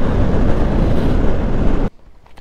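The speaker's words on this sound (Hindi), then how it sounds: "गाइस देख सकते हो कितना ज़्यादा हवा चल रहा है इतना ठंड में।" Strong, cold wind buffets the microphone on an overbridge at Simaria Dham in Begusarai, Bihar, a loud steady roar that cuts off abruptly near the end.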